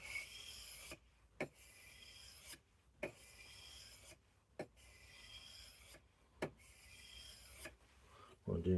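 A knife is drawn across a homemade flat sharpening block in a series of rhythmic rasping strokes, each ending in a brief scrape, close and fairly quiet with short pauses between passes.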